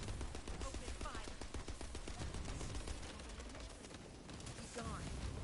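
Rapid gunfire in The First Descendant rattles in quick bursts at moderate volume, layered over game effects and voices that talk through the shooting.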